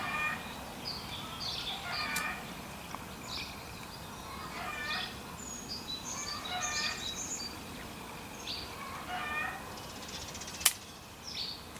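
Upset hens calling outdoors in repeated short bursts, fairly distant over a steady background hiss, with one sharp knock near the end and no talking.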